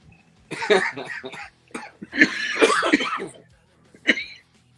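Several bursts of coughing mixed with laughter, in clustered fits separated by short pauses, close and fairly loud.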